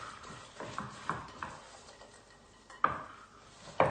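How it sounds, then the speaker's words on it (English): Melted chocolate being mixed through rocky road with a spatula in a big bowl, producing a series of irregular knocks and scrapes against the bowl, close up, with two sharper clanks near the end and no talking. "And then all we do is mix it right through."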